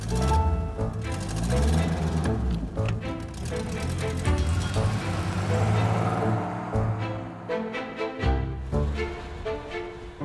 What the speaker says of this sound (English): The Triumph isn't at its best in stop-start traffic